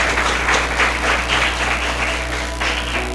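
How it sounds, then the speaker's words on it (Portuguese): A church congregation applauds during a worship service, dense sustained clapping rising and falling in waves over a low steady hum, with no speech over it. "Vamos aplaudir ao Senhor nesse momento."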